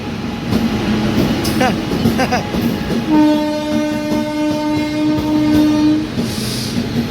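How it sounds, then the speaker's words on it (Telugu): A passing train sounds a long, loud, steady horn lasting about three seconds over clattering wheels and rail noise, heard from inside a crowded general coach with people talking. "నన్ను ఎక్కిరించినట్టుందండి ఆ హారన్"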